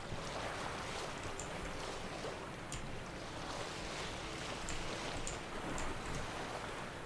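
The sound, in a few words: boat sailing on water in The Witcher 3 video game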